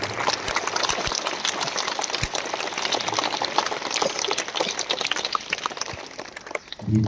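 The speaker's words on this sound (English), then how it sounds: "Please give them a very big clap to them." School assembly audience applauding for students, a dense sustained patter of many hands clapping throughout, fairly close and steady, fading slightly near the end.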